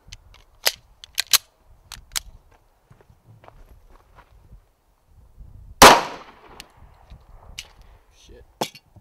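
A single sharp, loud gunshot from an XD pistol firing a 165 grain .40 caliber Federal EFMJ round into a Level 3A ballistic vest outdoors, preceded and followed by footsteps and handling clicks.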